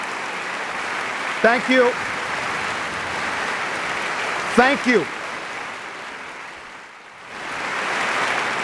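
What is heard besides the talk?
audience applause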